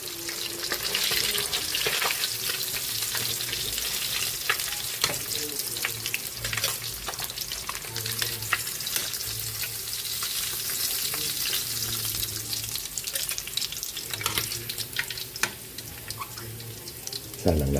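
Fish sizzles and crackles steadily as it fries in a pan, a continuous bright spatter of hot oil with occasional faint clatter of utensils nearby.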